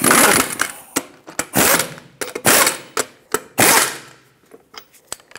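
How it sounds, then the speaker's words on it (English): Lug nuts snugged up on a 2012-2017 Hyundai Accent wheel with a power tool, several short loud buzzing rattles alternating with sharp clicks and clacks, close by. "Snug these up in a cross pattern to seat the wheel evenly."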